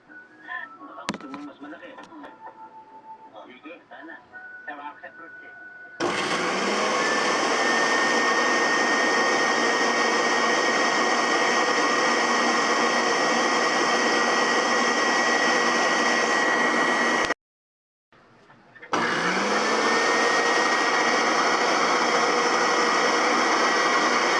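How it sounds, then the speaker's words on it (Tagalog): A loud, steady whir of a blender running continuously, cutting out briefly near the end and then starting up again. "Siya pinaghalo ko sa blender."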